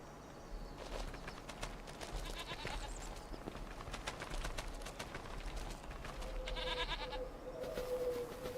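Goats in the farm pen of the video game Farming Simulator 25 bleat repeatedly over a busy ambient farmyard bed with birds and hoof sounds, the calls close and fairly loud.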